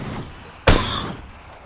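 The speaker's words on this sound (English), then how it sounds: "He headshot you off the bike with a fucking sniper rifle." Sniper rifle headshot in PUBG knocking a player off a motorcycle, a single sharp loud crack with a short ringing tail over quiet game ambience.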